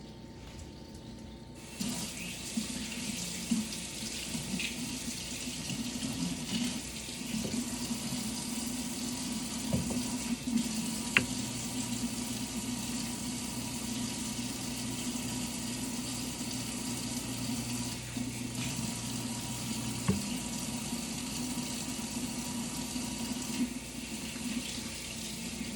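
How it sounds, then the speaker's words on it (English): Tap water runs steadily into a kitchen sink while hands are washed during fajita cooking, a continuous close splashing rush with no talk. "I'm just going to wash my hands because I got to grab a plate"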